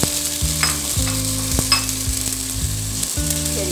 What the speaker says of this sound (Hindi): अब इसमें आपने टमाटर डाल दें जो आप काट के रखे थे